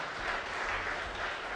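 An audience claps in dense, continuous applause to welcome a young woman named Eliška at an association meeting in Olomouc, a steady even wash of many hands with no voices over it.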